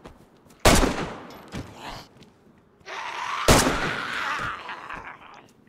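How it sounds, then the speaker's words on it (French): Gunfire in the video game DayZ: two sharp, loud shots, each followed by a short rumbling tail, with a quieter stretch of noise between them. "comme ça on a tiré plein de trucs"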